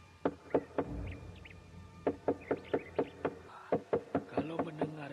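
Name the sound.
pounding on a gate door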